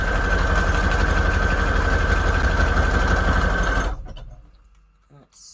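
A sewing machine stitches through scrap paper with a fast, loud, rhythmic mechanical chatter that runs steadily for about four seconds, then stops abruptly, leaving near silence and a brief faint clack.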